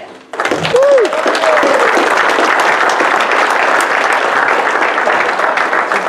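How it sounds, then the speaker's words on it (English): A motorsports park banquet crowd applauds a race driver, with a brief whoop or whistle at the start, then a loud, dense, steady wall of clapping that holds to the end. "Big round of applause."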